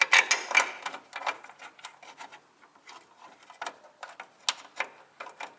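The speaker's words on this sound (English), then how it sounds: "So we put the inner bolt on first." On a Toyota AE86 Trueno, a bolt is tightened by hand while an under panel is fitted, giving irregular close clicks, rattles and scraping taps of a tool and metal parts, with no talk.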